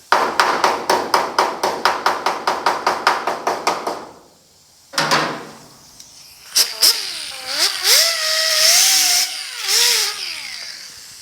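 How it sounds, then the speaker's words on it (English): A rapid series of about twenty even metallic hammer taps on the sheet metal of a 1950 Chevy truck door jamb, then a pause, a louder knock, and whining power-tool sounds rising and falling. "You just take a few minutes with a hammer and some light blows"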